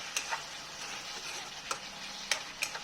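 Chicken in a pot gets stirred over a quiet background simmer, with a few sharp spoon clicks against the pot spaced through the moment.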